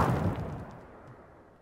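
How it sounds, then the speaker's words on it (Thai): A single explosion in the GTA game, opening with a loud, boomy burst that decays into a fading rumble over about a second and a half. "เอาแล้วโดนระเบิด"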